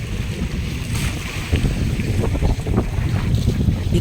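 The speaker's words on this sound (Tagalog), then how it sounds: "malalaki talagang alon" Strong monsoon wind buffets the microphone as big sea waves slosh against a fishing boat in the Philippines, a steady loud roar of wind and water with no talking.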